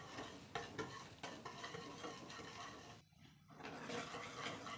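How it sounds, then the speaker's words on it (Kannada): Butter and powdered sugar are beaten together by hand for eggless coconut cookies, a steady scraping, sloshing stir close up. It stops briefly for a moment, then resumes. "ಶುಗರ್ ಪೌಡರ್ ಮತ್ತು ಬಟರ್ ಎರಡು ಮಿಕ್ಸ್ ಮಾಡಿಬಿಟ್ಟು ಕ್ರೀಮಿ ಟೆಕ್ಸ್ಚರ್ ಬರಬೇಕು, ಅಲ್ಲಿ ತನಕ ನಾವು ಇದನ್ನು ಬೀಟ್ ಮಾಡ್ಕೊಳ್ಳೋಣ"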